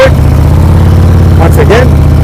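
A motorcycle engine idles low and steady in gear on loose ground as the bike creeps forward slowly in the friction zone, a close, even rumble with brief speech over the second half.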